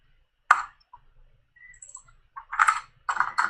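A few sharp, close keyboard clicks in sparse bursts, an isolated tap first and then quick clusters of keystrokes, in an otherwise quiet room.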